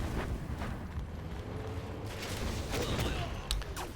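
An Aurora bomb from Command & Conquer Generals Zero Hour detonates amid a game battle, with dense rumbling blasts and crackling impacts, plus sharper bursts near the end, all noisy and continuous.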